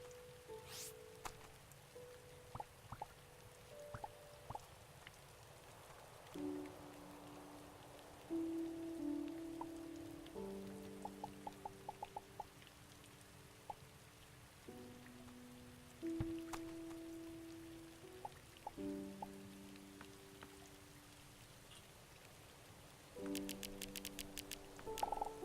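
Rain falls in the video game Starbound as a soft, steady patter under sustained tonal game music notes and occasional clicking interface sounds, all fairly quiet.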